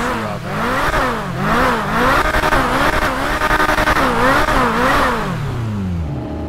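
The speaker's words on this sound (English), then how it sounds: "All right, McLaren, what you sound like?" A McLaren sports car engine in GTA 5 revs repeatedly, rising and falling in loud, close bursts with no talk.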